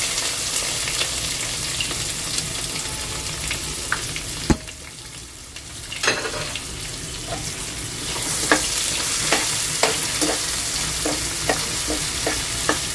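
A large chopped onion sizzling in hot oil in a home kitchen, a steady bright frying hiss broken by a few sharp clinks and stirring scrapes, with the sizzle swelling louder near the end.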